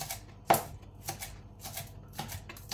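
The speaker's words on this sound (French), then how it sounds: "pour la cébette ou votre échalote, là, on va l'émincer d'abord le verre très finement" Spring onion or shallot being finely minced with a knife on a board: a steady run of quick, light taps with a few sharper strikes, close and fairly quiet.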